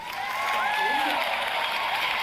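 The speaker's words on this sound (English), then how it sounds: "Just a big round of applause for that" An audience gives a sustained round of applause, steady dense clapping mixed with crowd noise and a few voices throughout, with no pause or break.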